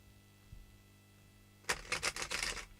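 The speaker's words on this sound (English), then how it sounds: "Just giving it a shuffle before I put it away." Tarot cards being shuffled, a quick run of papery riffling bursts arriving after a near-silent lull with one soft bump, fairly close and clear.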